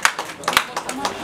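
An audience at an installation ceremony in Morocco applauding, a close cluster of uneven claps rising and falling over about a second with some talk mixed in.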